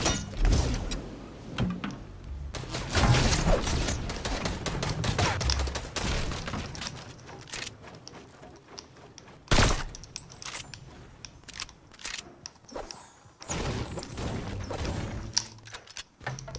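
Fortnite gunfire in a ranked match: bursts of rapid shots cluster early, with a sharp crack near the middle and more volleys later, mixed with game mechanism clatter.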